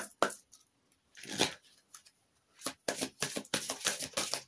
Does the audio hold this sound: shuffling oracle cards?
yes